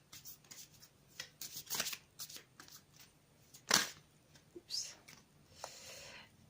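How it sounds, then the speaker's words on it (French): Tarot cards being drawn and slid from a deck, with light papery flicks and shuffles in short bursts and one louder snap midway, fairly close and quiet, with a little talking. "Ensuite, je vais tirer 2 cartes pour le milieu de semaine."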